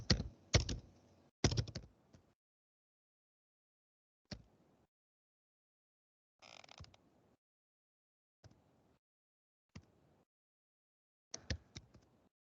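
Numbers typed on a computer keyboard while coding in Python, sparse bursts of clicky keystrokes separated by pauses, close and quiet with no talking.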